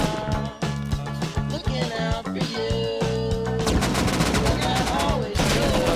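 Rapid gunfire in the video game Rust, a dense volley of loud close shots over a constant game soundscape with a tonal drone, firing in clustered bursts throughout, voice chat faintly mixed in.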